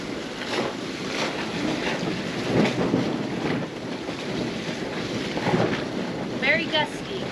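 Gusty wind buffets a small sailboat, a broad rushing roar that swells and eases in irregular bursts, with water sloshing against the hull and a few brief higher sounds near the end.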